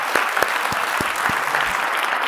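An audience at a National Religious Freedom Day forum claps in a dense, steady burst of applause, with a few sharper low thumps standing out from the crowd throughout.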